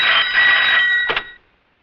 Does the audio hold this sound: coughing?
no